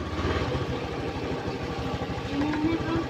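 A Honda Beat FI scooter engine runs at idle just after being started, with a steady low pulsing putter throughout and close and fairly loud.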